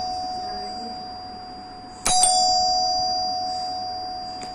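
An electric doorbell chimes once, sharp and close after a quiet steady hum, its bright ringing tone sustaining and slowly fading.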